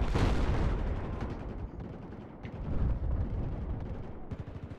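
Light machine guns firing in a first-person shooter game, a heavy continuous roar of rapid shots with booming impacts, loud and dense throughout with small swells in intensity.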